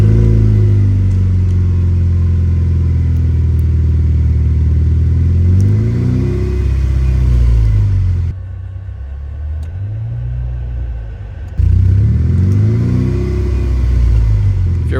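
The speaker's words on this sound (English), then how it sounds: "So now you're standing right outside the car revving it." A Mustang's engine is revved by a remote rev system from outside the car, a loud, near rumbling with repeated rising and falling revs, a quieter idle dip in the middle, then more revving.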